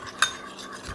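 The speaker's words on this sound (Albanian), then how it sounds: "Tashi i përzi mirë, o me lugë, o me pirun," A spoon or fork stirs a lemon and egg mixture in a bowl while chicken soup is being made: one brief, close clink of metal against the dish, then soft scraping.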